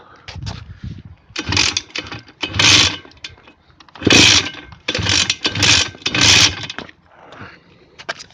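A Simson S51 moped engine is kicked over in the cold, giving repeated short bursts of sputtering engine noise separated by pauses as it struggles to catch, loud and close.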